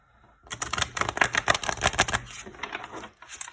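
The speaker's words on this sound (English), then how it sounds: "that is how I like to shuffle my cards" Rapid riffling and flicking of tarot cards, a dense crackling flutter lasting a couple of seconds, close and fairly loud.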